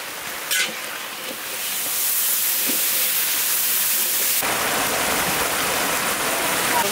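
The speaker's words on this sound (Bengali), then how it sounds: "টমেটো একটু সেই ভাজা হচ্ছে।" Tomato paste seasoned with salt and turmeric sizzles in hot oil in a pan, a loud continuous frying hiss that swells after a brief clatter and holds steady.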